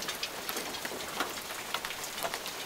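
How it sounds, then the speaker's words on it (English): Steady outdoor rain mixed with hail patters and ticks on nearby surfaces in a dense, even hiss with scattered sharper impacts, fairly faint and with no voices. "It's a rain hail mix."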